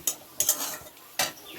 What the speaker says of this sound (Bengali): এই যে এরকম করে নেড়ে নেড়ে নেড়ে নেড়ে এটা লেগে যাচ্ছে